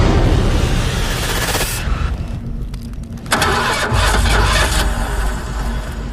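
A rusty car's engine cranks and catches in a video game, a loud turnover followed by a steady rumbling idle that settles in after a brief lull.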